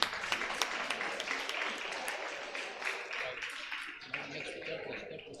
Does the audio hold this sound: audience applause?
yes